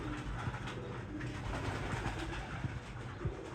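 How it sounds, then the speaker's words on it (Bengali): Pigeons in a farm loft coo steadily in soft, overlapping low calls, a dense continuous murmur of many birds close by, with faint background rumble. "এই যে দেখেন কবুতরগুলো, মাশাআল্লাহ এখন আদার দেওয়া হয়েছে"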